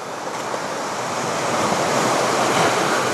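Ocean waves wash continuously onto a beach in Turks and Caicos, a loud, broad rushing surf with some wind buffeting the microphone, swelling slightly toward the end, with no voices.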